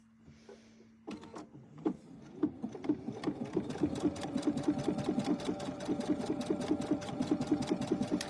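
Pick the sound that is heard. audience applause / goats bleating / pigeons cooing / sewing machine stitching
sewing machine stitching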